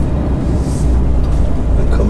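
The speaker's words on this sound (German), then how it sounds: "hier fährt gerade einer von unseren Traktoren" A farm tractor rumbles past close by, a loud continuous low engine drone that holds steady for a couple of seconds with no speech over it.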